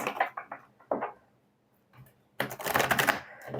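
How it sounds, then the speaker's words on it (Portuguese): Tarot cards being shuffled by hand in short crisp riffles, a few quick bursts, then a pause and a longer, louder flurry of shuffling, close up and with no talking. "Tô embaralhando aqui as cartas."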